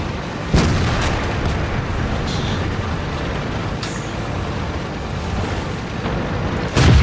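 Tank cannon fire in World of Tanks during a battle: two heavy booming shots, one early and one at the very end, over a steady rumbling engine drone, with faint distant thuds between them.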